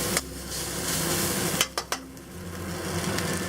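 Spicy bean paste sizzles and spits in a hot wok for Sichuan ma po tofu, with a steady frying hiss and a few sharp metal clinks and scrapes of the spatula against the pan.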